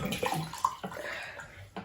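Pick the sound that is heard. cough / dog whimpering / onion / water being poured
water being poured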